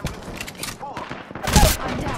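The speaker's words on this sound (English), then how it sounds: "Another squad shooting at us." Bursts of automatic gunfire from another squad in the battle royale game Apex Legends crackle through the game sound, with a louder volley near the end and a voice talking over it.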